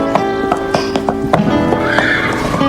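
A horse whinnies in a long rising call while hooves clip-clop in a steady, fairly close rhythm around it.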